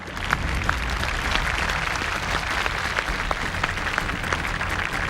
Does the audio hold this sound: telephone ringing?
no